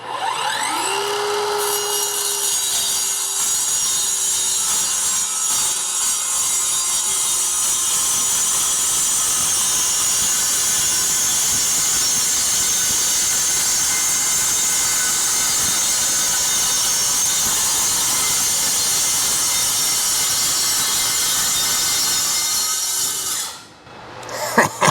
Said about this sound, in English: I've never known a cordless tool to rip down sheet like this.